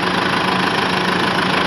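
Overheated tractor engine running during an oat harvest, a loud, steady close-up drone with a faint rhythmic knock and vibration throughout, no talking.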